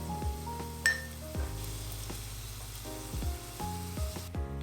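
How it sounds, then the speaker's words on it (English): Shallots and garlic sizzle loudly in hot olive oil in a skillet over medium heat, a steady close frying hiss with a few light clinks of utensils against the pan, no talking. "once it's hot, add your shallots and garlic"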